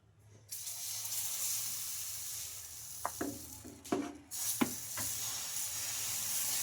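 Cucumber dosa batter is spread thin on a hot pan and hisses with a broad, steady sizzle. A few sharp scrapes and taps cut through it, and no one speaks.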